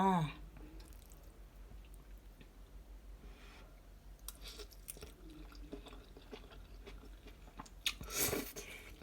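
Someone nearby eats spicy Thai food, with soft crunching, biting and wet chewing sounds scattered through a quiet stretch. A few louder clicks and bursts come near the end, and a voice is heard briefly at the start.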